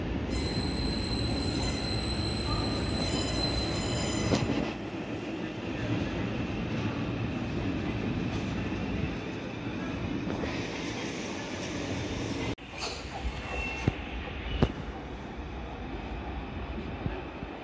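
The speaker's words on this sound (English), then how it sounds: "This train has 10 coaches." Train wheels squeal high and shrill as a train moves through London Bridge station, with a steady rumble of carriages rolling beneath and a few clanks and knocks near the end.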